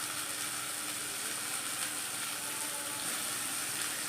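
Chicken pieces sizzle steadily in a hot pan of spiced masala, a continuous bright hiss without a break.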